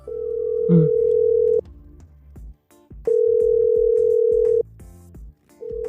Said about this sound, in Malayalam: വിളിച്ചു നോക്ക. കോള് സ്പീക്കറിലിട.